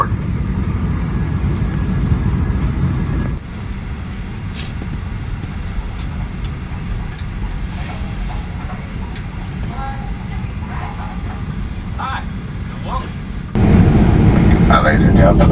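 A United Airlines Boeing 737-900ER taxiing out, heard from inside the cabin as a steady low engine rumble and drone, quieter in the middle and louder again near the end, with voices speaking over it.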